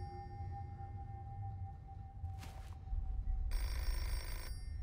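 A phone rings in a video game demo, two short bursts of bright electronic ringing with a pause between them, over a low steady background hum and no talk.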